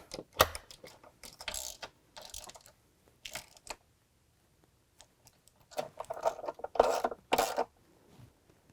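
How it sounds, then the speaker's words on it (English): Bolts are fitted to a Jeep JL windshield frame header, giving bursts of close metallic clicking and ratcheting with short pauses between. "now we can install the bolts that attach our windshield frame back to the header"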